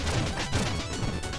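Shovel Knight bomb explosion comes through as a short, fairly quiet crashing burst amid other game noise, with no talk over it.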